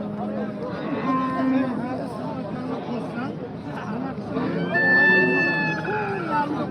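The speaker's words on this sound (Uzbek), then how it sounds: "O'rta yosh sigir ekan." A middle-aged cow at the Usmat livestock market in Baxmal, Jizzax, gives two long, loud moos, one early and one near the end, over a murmur of people talking in the background.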